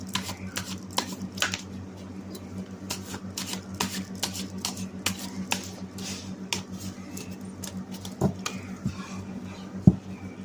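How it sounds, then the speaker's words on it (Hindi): Tarot cards being shuffled by hand: a long run of soft, close, irregular flicks and taps, fairly quiet, over a low steady hum. "मैं पहले कार्ड शफल कर लेती हूँ"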